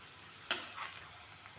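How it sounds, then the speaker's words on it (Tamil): Onions sauté in a pan for a soya bean gravy, a quiet sizzle with two brief louder stirring scrapes of a spoon against the pan. "நல்லா வெங்காயம் நல்லா வதங்கி நல்லா கலர் மாறி வருது பாருங்கள்"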